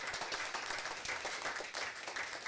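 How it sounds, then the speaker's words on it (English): People at a city council special meeting give a round of applause, a lively burst of mixed clapping from a room audience that holds steady across the whole moment. "Give her a round of applause."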